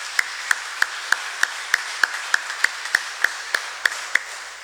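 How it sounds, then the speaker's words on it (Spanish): Hand clapping during a Catholic Mass in church, a steady run of about fifteen evenly spaced claps, fairly close and bright, with a faint hum underneath and no voices. "Le damos el aplauso."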